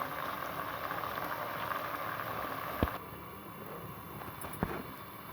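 Carrot murabba syrup boils in a pot as it is dried down, giving a steady hissing, bubbling simmer with a couple of brief knocks, close and fairly quiet, no voices.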